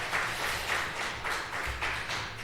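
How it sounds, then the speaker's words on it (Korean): Congregation applauding during a Sunday afternoon church service, a steady soft wash of clapping in a large room, fairly faint and continuous with no voices over it. "박수 한번 쳐주십시오."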